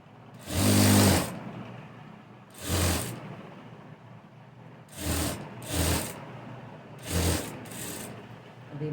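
A sewing machine runs in several short bursts, stitching a quarter-inch fold along a blouse edge on the wrong side, its close whirring stopping and starting with quiet pauses between runs.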